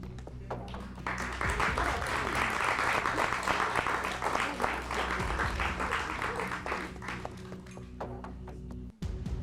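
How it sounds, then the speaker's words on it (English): Secondary school debate participants clap for themselves at a televised student debate, a loud, sustained burst of crowd applause that builds quickly, holds for several seconds, then thins to scattered claps before a short break. "Clap for yourselves for taking part in this debate"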